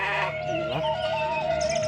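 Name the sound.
goats bleating, village livestock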